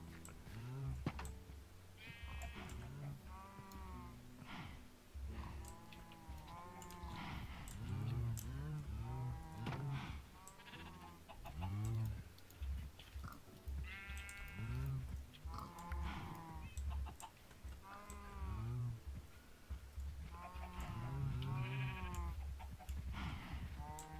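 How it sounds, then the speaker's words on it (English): Cows in Minecraft moo repeatedly, their drawn-out lowing calls overlapping one another in a steady series that keeps going, with no talk over them. "Cows."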